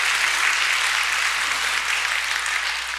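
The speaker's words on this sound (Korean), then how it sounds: "박수가 후하시네요." Audience applause fills the room as a dense, steady wash of clapping, loud and close throughout, fading only slightly at the end.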